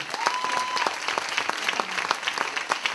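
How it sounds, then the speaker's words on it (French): A theatre audience applauds the sound technician after a show, with individual claps sounding distinct and fairly sparse, a modest, somewhat distant patter of hands that stays even and quiet for the whole stretch. "Maël, applaudissements pour lui s'il vous plaît"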